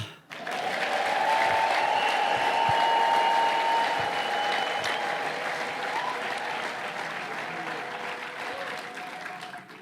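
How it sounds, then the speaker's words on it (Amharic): A church congregation erupts in loud, sustained ululation and cheering in praise, a dense high trilling wash of voices filling the room and slowly easing off over about ten seconds. "እስቲ እልልታ ለጌታ።"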